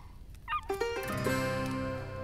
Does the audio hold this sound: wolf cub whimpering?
yes